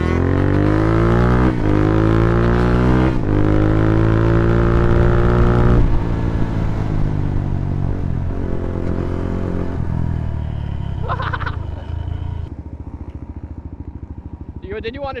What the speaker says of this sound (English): I never rode a stretch DRZ, so I wanted to see if I could wheelie it